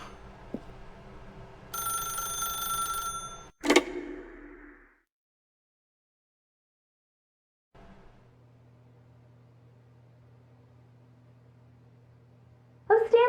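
A telephone rings in The Stanley Parable, several bright repeated rings over a low room hum, then a sharp click as the receiver is picked up, a silent gap, and a quiet held tone before a voice starts at the end.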